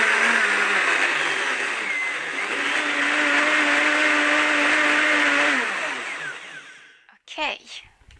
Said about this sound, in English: And I just close my blender. You don't need to have the same blender.